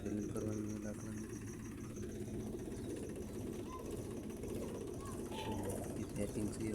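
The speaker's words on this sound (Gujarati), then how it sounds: "પપ્પા ટ્રેક્ટર ઘરે નીકળીને આઈડલિંગ કરવાનું હોય લાકડાની" Tractor engine idling near a home, a steady low, throbbing rumble that runs unbroken throughout, with faint voices and a few birds in the background.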